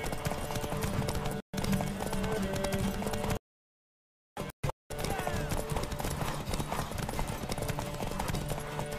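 Horse hooves clip-clopping in The Witcher 3: Wild Hunt, a steady rhythmic trot with a brief break of silence midway, mixed with game ambience.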